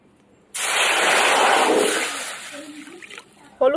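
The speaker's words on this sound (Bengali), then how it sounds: "কড়াইতে জল দিয়ে দেব," Water is poured into a hot wok, a sudden loud hissing rush that fades out over about two seconds, followed by quieter bubbling and a brief clatter at the end.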